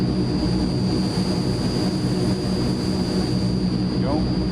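Transall C160 cargo plane in Microsoft Flight Simulator, a steady loud turboprop drone and rumble with a constant whine, unchanging throughout, in flight with flaps and gear being extended.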